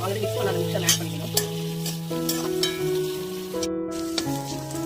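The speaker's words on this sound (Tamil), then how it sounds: "ஸோ ஒரு பேன்ல வந்து ஆயில் ஆட் பண்ணிட்டு இப்போ ஆனியன் சேர்த்துக்க போறேன்" Onions frying in oil in a pan for homestyle chicken chukka. The sizzle is steady and close, with a few scraping stirs, and tonal music plays softly underneath.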